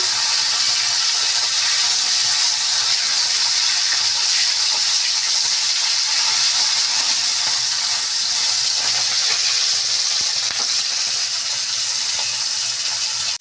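Bata fish frying in a pan for a Bengali-style recipe, a steady, loud sizzle and hiss of hot oil that runs evenly through the whole stretch with no talk over it.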